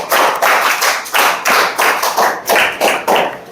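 Schoolchildren clap in unison for a classmate in a scout-guide style patterned clap, loud sharp group claps in a rhythmic sequence of about a dozen beats with brief pauses between groups, no talking.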